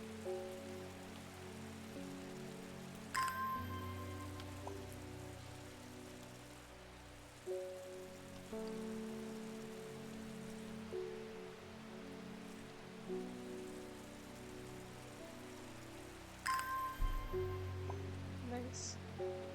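Rain in the game Strange Horticulture, a soft steady patter of drops on a surface running continuously beneath quiet musical tones and occasional game sounds.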